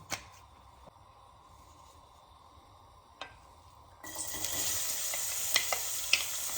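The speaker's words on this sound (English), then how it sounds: "Some olive oil. We'll be cooking off the onion." Onion cooking in olive oil in a pot for Sicilian arancini, a few utensil taps in quiet room tone, then a sudden steady sizzle with light clicks and stirring.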